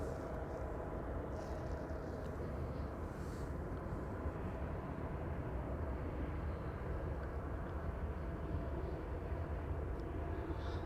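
A KLM Boeing 737 at Amsterdam Schiphol Airport produces a faint, distant, steady low engine rumble that holds evenly throughout with no voices.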